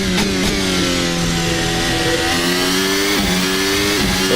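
A Formula Hybrid 2023 race car engine drones loudly and continuously on an out lap at Imola in a racing sim, holding a high steady pitch with small dips and rises as the driver shifts and lifts.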